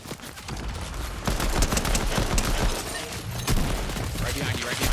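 Pistol gunfire in a video game, with rapid dense bursts of sharp cracks layered in a chaotic firefight, loud and close, while players talk over it.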